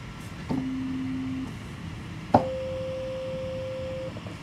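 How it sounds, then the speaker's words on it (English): Two pure electronic synthesizer sine-wave tones sound one after another, the first low and about a second long, the second higher and held nearly two seconds, over faint hiss. "Start with our sine wave."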